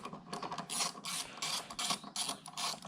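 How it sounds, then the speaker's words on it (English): A 1/4 inch drive ratchet with a 10mm socket and extension loosens a bolt on a Mk4 Golf GTI 1.8T engine, giving a rapid run of close, crisp clicking bursts that repeat in short strokes with brief pauses, no talk. "I'm just going to use a 1/4 inch drive ratchet and a 10mm socket and an extension"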